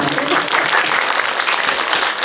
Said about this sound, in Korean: 박수 많은 거 쳐주시죠